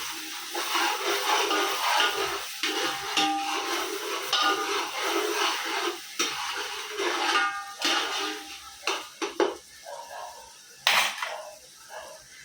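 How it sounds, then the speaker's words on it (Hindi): Ginger garlic paste frying in a pan for a chicken dish, a busy sizzle and hiss with repeated scraping and clanking of a spoon against the pan, loud and close. "अभी इसमें 4 टेबल स्पून भर के अदरक लहसुन का पेस्ट, इसको अच्छा भूनेंगे, उसकी कच्ची स्मेल जाने तक भूनेंगे इसको।"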